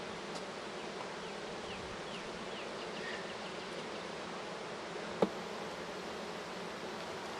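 Honeybees around an open hive make a constant close buzz across the whole stretch, with a few individual bees droning past and one sharp click near the end.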